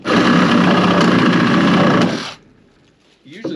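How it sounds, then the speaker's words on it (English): A Sawzall reciprocating saw cuts through deck wood with a loud, close, continuous buzzing rattle for about two seconds, then stops abruptly, followed by a brief quieter clatter. "The Sawzall My least favorite tool"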